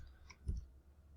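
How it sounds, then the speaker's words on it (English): A computer mouse gives a quick double click, two faint, close, light taps in rapid succession against a quiet room background. "Let's double click."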